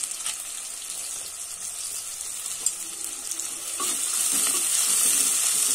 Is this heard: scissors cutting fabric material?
no